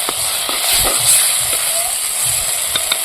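Urad dal mixture being stirred while it fries in a pan for tamarind chutney, a steady close hiss of frying with soft scraping strokes of the stirring utensil and no talk.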